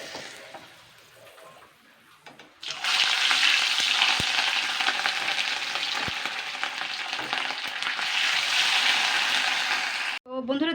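Rohu fish pieces fry in hot oil, a loud, steady close crackling sizzle that starts abruptly after a quieter stretch, with a few faint scrapes and a brief cutoff near the end.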